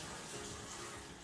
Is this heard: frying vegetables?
no